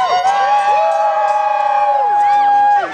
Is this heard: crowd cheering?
yes